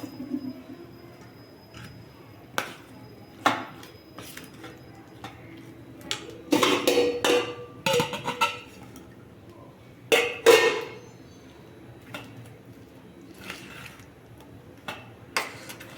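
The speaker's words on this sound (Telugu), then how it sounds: "ఇప్పుడు మనం వడగట్టుకున్న ఈ ముక్కలు ఉన్నాయి కదండి క్యాబేజీ ముక్కలు ఇవైతే ఇందులో వేసి బాగా మిక్సీ చేసుకోవాలి అంటే బాగా కలుపుకోవాలి" Cauliflower pieces for cauliflower 65 pakodi are mixed by hand in a bowl, giving scattered light clicks and clinks, with a denser stretch of tapping and scraping partway through.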